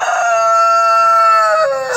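Rooster crowing close and loud in one long sustained call, a rich harmonic tone lasting nearly two seconds, among speckled carijó hens with no talk over it.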